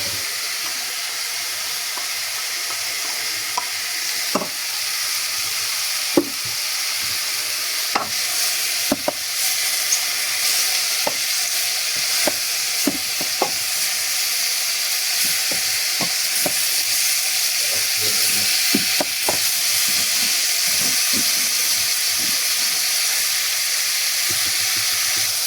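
Onions fry in a pan over medium heat for blanquette de veau, a steady continuous sizzle broken by frequent sharp clicks and taps of stirring, close and without talk.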